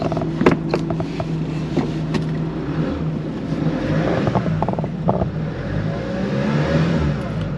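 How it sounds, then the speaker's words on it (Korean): A 2022 Hyundai Porter refrigerated truck engine idles with a steady low rumble, close and continuous, with a few light clicks and rattles early on and no talking. "엔진 소리 좋고요."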